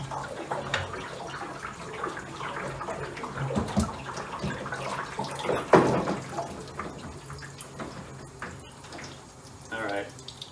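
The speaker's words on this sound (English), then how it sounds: "That's a lot of water coming out still." Water drains out of a gas water heater in a steady splashing, trickling flow with scattered drips and clunks, close by, as someone talks intermittently over it.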